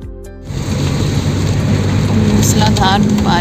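Heavy monsoon rain pours down in a dense, steady roar on a forest road en route from Delhi to Nainital, after a brief quieter moment, with faint voices and distant rumbling underneath.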